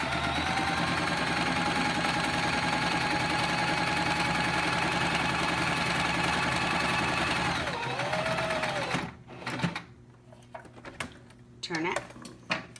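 A sewing machine stitches along the edge of a fabric face mask in a steady, continuous whir for about nine seconds, then stops, leaving quieter handling noises and a few brief sounds.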